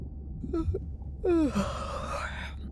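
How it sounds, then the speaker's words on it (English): A drawn-out yawn from a character in the video game Beyond Blue, starting with a short breathy sound and swelling into a long, rising-then-falling exhale over a low hum. "Was that a yawn?"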